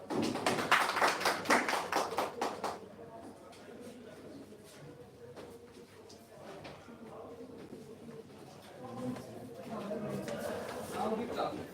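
Conference hall audience bursting into applause, a dense flurry of claps for the first few seconds that then thins to scattered clapping under room murmur and a voice, before swelling a little again near the end.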